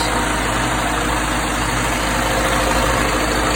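An Acura Integra engine idles steadily with a rough, somewhat noisy drone and no distinct knocking, heard close up and alone for the whole stretch.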